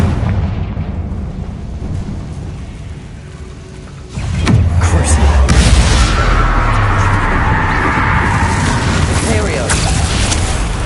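A Confringo blasting spell exploding in the Hogwarts video game, a sudden loud boom partway through that swells into a sustained roaring rumble, heavy and close.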